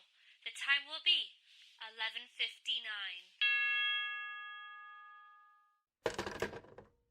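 A telephone time-service signal sounds as a clear steady electronic tone that rings out and decays over a couple of seconds, following speech and then followed by more voices.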